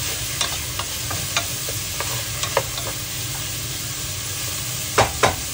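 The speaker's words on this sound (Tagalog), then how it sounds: "Igisa natin siya hanggang mag-soften yung sibuyas" Onion sizzling as it sautés in a pan for chicken tinola, a constant close frying hiss with occasional light clicks and two louder scrapes near the end.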